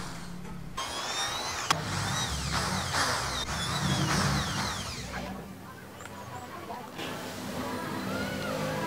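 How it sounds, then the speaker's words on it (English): A power drill boring a hole in a pipe whines and grinds in bursts with rising and falling pitch, near and fairly loud, mixed with mechanical rattling. "Pwede naman natin ikut-ikutin yung drill para lalong lumuwag o lumaki yung butas."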